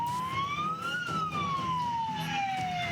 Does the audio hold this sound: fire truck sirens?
yes